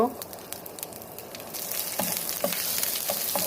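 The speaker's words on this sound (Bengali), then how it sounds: "একসাথে এগুলো ভেজে নেব" Onions and other ingredients fry in mustard oil in a pan, a steady crackling sizzle with a few sharp spits and stirring clinks that grows slightly louder as it goes.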